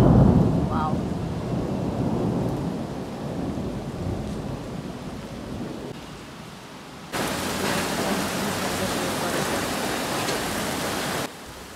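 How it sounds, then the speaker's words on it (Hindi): Heavy rain pours steadily outside during a storm with hail falling, a loud broadband hiss that swells and drops, with deep rumbling thunder low underneath and a brief voice near the start. "देखो सुनो, मतलब कितनी तेज़ बारिश हो रही है, ओले पड़ रहे हैं बाहर लिटरली"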